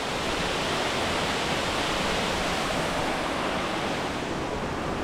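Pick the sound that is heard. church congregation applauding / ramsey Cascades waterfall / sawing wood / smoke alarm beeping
ramsey Cascades waterfall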